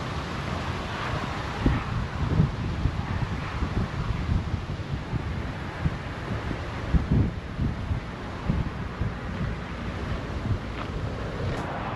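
Strong wind buffets the microphone at a foggy mountain lake campground, a steady broadband roar with repeated low gusty thumps and no voices throughout.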